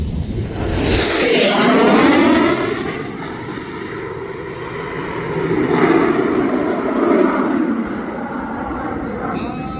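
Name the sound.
warbird aircraft engine flying over airshow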